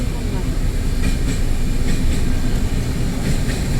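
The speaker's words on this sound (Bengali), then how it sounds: "কাঞ্চনকন্যা এক্সপ্রেস যাচ্ছে।" The Kanchankanya Express rolls past near Farakka with a loud, steady rumble and rhythmic clickety-clack of wheels over rail joints, heard close and continuous.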